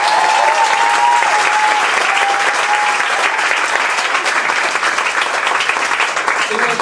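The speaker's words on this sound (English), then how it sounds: "give him a round of applause" Dense, sustained applause from a large comedy-awards audience in Melbourne, steady and loud throughout with a faint whistle-like tone early on.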